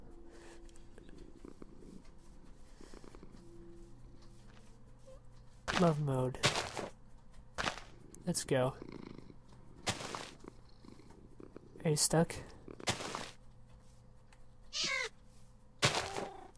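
A white kitten in Minecraft purrs softly in short bursts with game chimes and clicks, while a player talks intermittently over the quiet, sparse sounds.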